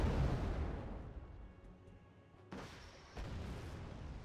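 Rocket strikes explode in Wargame: AirLand Battle, a rumbling low boom fading over the first seconds, followed by two sharper, broadband blasts in quick succession, moderately loud with no voices.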